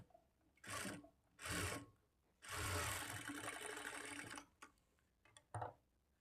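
Sewing machine stitching a blouse lining, several short whirring bursts of stitching separated by pauses, then a longer continuous run, close and fairly quiet.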